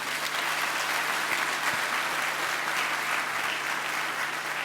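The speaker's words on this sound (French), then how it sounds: "Je souhaite qu'on applaudisse très fort les parents." A large audience at a school awards ceremony applauds the parents of the laureates, a dense, steady wash of clapping that holds at an even level throughout.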